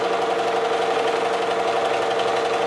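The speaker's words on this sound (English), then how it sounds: "I'm going to place it on the sewing machine and sew it down the entire right side" Sewing machine stitching quilt fabric in a steady, continuous mechanical whir with a rapid even rhythm, close and fairly loud, with no talking.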